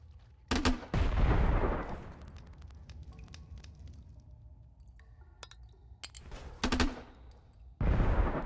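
Rocket launcher shots with no gravity in the pixel sandbox game Untitled Pixel Simulator, heard as a few booming, crackling blasts, one sustained burst early and two more near the end, with quieter rumbling between.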